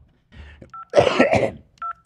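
Telephone keypad tones chirp in short separate beeps, with a cough or throat clearing breaking in between them.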